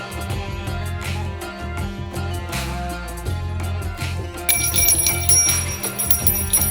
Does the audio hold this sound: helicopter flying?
no